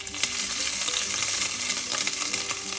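Ginger hits hot oil with fenugreek seeds for a white tuna fish curry, giving a loud, dense, continuous sizzle with faint crackles and stirring close by.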